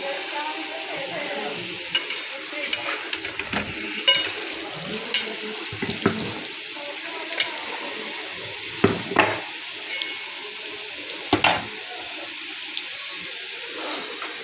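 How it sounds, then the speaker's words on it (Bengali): Potatoes frying in a pan with a steady sizzle, broken by clanks and scrapes of stirring and a few louder knocks, close by with no talking. "আলুটা ভেজে নিলাম"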